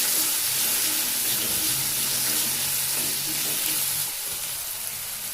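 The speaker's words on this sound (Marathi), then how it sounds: "आता आपण टोमॅटो टाकून घेऊया। टोमॅटोला सुद्धा 2 मिनिटं परतून घेऊया।" Tomatoes sizzle as they are sautéed with onion in a pan, a steady close hiss of frying that holds evenly throughout without talk.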